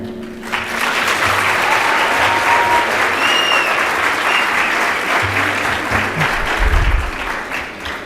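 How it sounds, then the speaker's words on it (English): An audience at a university College of Medicine white coat ceremony gives sustained, steady applause for the incoming class of medical students, filling the hall with dense clapping and a few faint whistles. "let's hear a round of applause for Ajman University's 4th batch of medical students"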